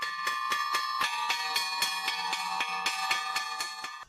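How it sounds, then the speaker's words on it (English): A bell rings rapidly and steadily to call pigs, a bright clanging struck in quick regular rhythm, clear and fairly close with no talking. "they return from wherever they are when they hear the bell ring"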